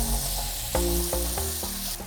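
Blackfish (tautog) fillets sizzling steadily in a pan with avocado oil and butter, a close, continuous frying hiss broken by a few soft clinks and stirring touches, with no talking.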